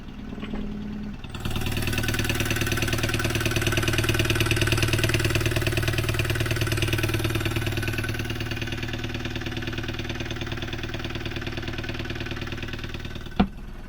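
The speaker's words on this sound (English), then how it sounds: "Just while the engine is running," A car engine idles after an oil change, starting up and then holding a steady, even mechanical hum that stays constant and close with no revving, ending in a brief click.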